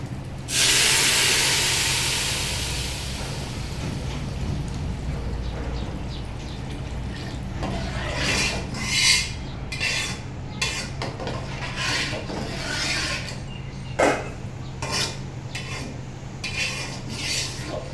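Hot water hits fried rice and moong dal in a pan for bhuna khichuri, giving a loud hissing burst of steam that settles into softer bubbling with scattered clinks of a spoon against the pot.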